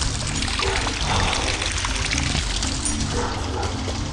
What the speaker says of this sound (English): it's running water, and this time, a waterfall.